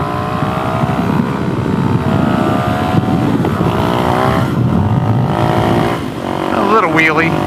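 A motorcycle engine drones loud and close as the rider lifts into a small wheelie, its pitch wavering and then briefly dipping near the end.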